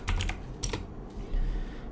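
Quick bursts of clicking keys on a computer keyboard as someone types a search into YouTube, close and fairly quiet, with a short pause between two flurries of keystrokes.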